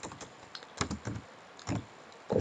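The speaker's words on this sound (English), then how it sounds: "you press the enter key, then type components" Typing on a computer keyboard while working in Microsoft Word, a few quiet, close key taps in small irregular bursts with gaps between them.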